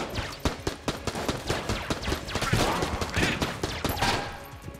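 Rapid full-auto gunfire from ghost enemies in the video game Enter the Gungeon, dense overlapping bursts of shots rattling continuously at a moderate level with a faint voice underneath.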